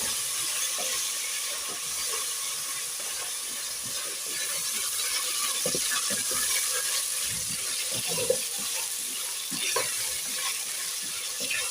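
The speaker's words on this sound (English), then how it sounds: "We are going to wait for our meat to cook in the cooking oil." Meat frying in cooking oil in a covered pan gives a steady, soft sizzle with small pops and crackles, quiet and continuous with no talking.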